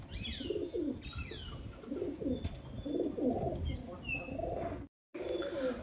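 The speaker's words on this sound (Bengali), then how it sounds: "অসাধারণ একটি মাদি কবুতর" A female pigeon coos in repeated soft, throaty phrases at close range, with faint chirps from other birds in the background.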